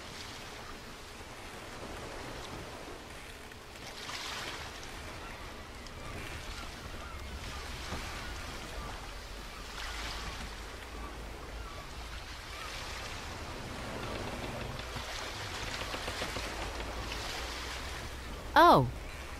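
Steady rushing water from a waterfall in a hidden-object adventure game, a continuous wash of noise running throughout with a brief sharp tone near the end.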